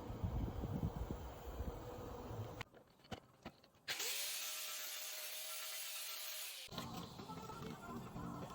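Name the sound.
angle grinder grinding metal crossmember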